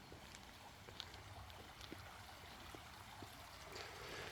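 River water beside a home in Portugal flows in a soft, continuous rush with faint trickles and small splashes, steady and fairly quiet with no voices.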